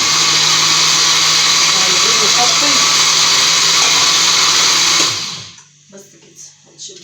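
A blender motor whines loudly and steadily for several seconds, then cuts off, leaving faint clinks and low background sounds.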